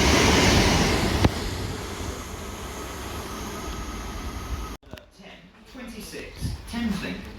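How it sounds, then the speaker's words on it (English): A pair of Gatwick Express Class 387 electric trains running from Brighton to London Victoria pass by in light rain, a loud broad rushing roar that cuts off abruptly, leaving quieter ambience and a voice talking. "pair of Gatwick Express 387s going from Brighton to London Victoria."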